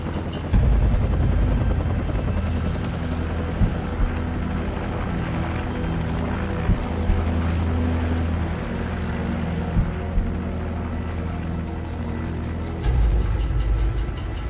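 A helicopter in the video game Call of Duty 4: Modern Warfare produces a loud, continuous rotor drone throughout, with a few sharp impacts or shots breaking through near the middle and end.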